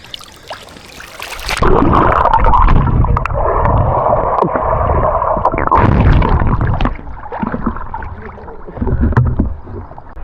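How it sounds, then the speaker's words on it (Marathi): A waterproof camera plunges suddenly into water while people swim, then muffled, booming underwater rumble and gurgling, loud and close, with occasional bubbly knocks. "आता पाण्यात चाललोय कॅमेरा घेऊन फर्स्ट टाइम कॅमेरा टाकतोय पाण्यात"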